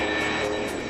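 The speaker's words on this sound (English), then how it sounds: "Once it hits the speed it wants to fly, it just lifts up and away." An A-10 Warthog jet climbs away after takeoff, its engine roar steady and loud throughout with a broad high whine, no voices present.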